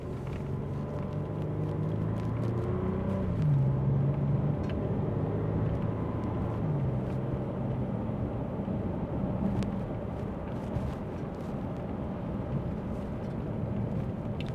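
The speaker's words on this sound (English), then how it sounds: "we're going to accelerate a little harder now" A 2007 Bentley Continental GTC accelerating along a rough road in Las Vegas: a steady, moderately loud engine drone and low rumble that holds through the whole stretch without speech.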